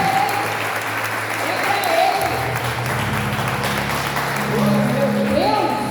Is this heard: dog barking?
no